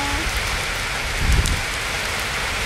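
Heavy rain pours steadily onto a moored barge, a dense, loud hiss of drops drumming on the surface with a brief low rumble partway through.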